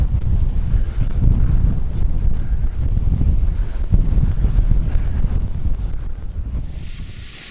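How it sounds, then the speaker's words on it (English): Strong wind roaring into the microphone, a loud continuous buffeting rumble that eases slightly near the end. "I don't know if you can hear me because it's pretty windy, so I'm shouting."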